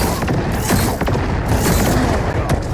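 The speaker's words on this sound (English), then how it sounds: "Tell me I launched that missile successfully." Booming missile-launch explosions and crashing blasts in the Marvel Rivals video game, loud and dense, with several sharp impacts over a sustained rumble; faint talk may sit underneath.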